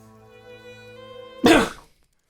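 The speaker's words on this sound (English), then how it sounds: "Hold on, I have to sneeze." A single burst of a sneeze, sharp and close, about half a second long, following a sustained held musical tone, with no talking.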